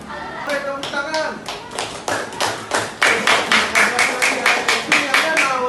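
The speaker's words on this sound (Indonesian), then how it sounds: "Oke, tepuk tangan." Schoolchildren clapping together in an elementary school classroom, starting as scattered claps and settling into a loud, steady rhythmic group clap that continues to the end.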